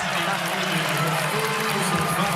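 A basketball arena crowd at a women's college game between Purdue and Michigan roars and cheers after a play, a loud sustained wash of voices and applause with broadcast commentary mixed underneath.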